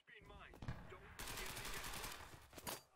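Sten submachine gun firing in the World War II shooter Enlisted: a sustained burst of rapid automatic shots runs for over a second, followed by a few more shots, with someone talking faintly at the start.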